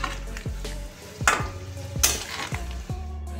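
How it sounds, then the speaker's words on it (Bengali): A spoon stirs okra curry with bori and eggplant in a pan, scraping strokes repeating about every half second over a soft sizzle, close and moderately loud, with a couple of sharper clanks against the pan. "এবার আমি এটা নেড়ে চেড়ে ঢাকা দিয়ে দেব।"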